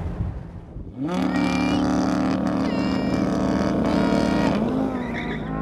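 Sports cars, among them a McLaren 570S and an all-wheel-drive Audi R8, launch together in a drag race, their engines swelling into a loud sustained roar with rising revs close by.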